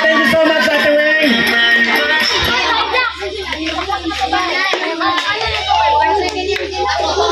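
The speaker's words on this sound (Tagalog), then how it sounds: "Palakpak naman tayo dyan." An audience of children and adults claps at a feeding program celebration in Antipolo, with hand claps mixed with children's voices and chatter, fairly loud and close.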